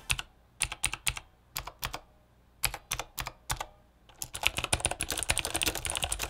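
Close, crisp typing on a Razer Turret keyboard with clicky tactile switches, starting as short bursts of keystrokes separated by pauses and then turning into a fast, continuous run.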